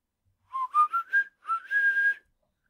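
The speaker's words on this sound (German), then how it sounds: "Ich kann nur pfeifen, indem ich einatme." A person whistles by inhaling air, producing a short rising series of four airy notes, a brief pause, then a longer held tone, close and clear against silence.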